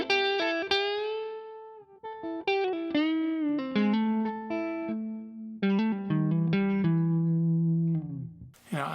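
Clean-toned Fender American Deluxe Stratocaster with a hand-wound Custom Shop '69 neck pickup, played as a close, sustained melodic line of ringing single notes and short phrases, with no talking.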